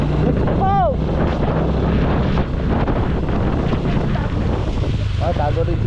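Wind roars steadily at Tagaytay, a heavy gusting rush buffeting the microphone throughout, with a brief voice rising over it near the start and again near the end.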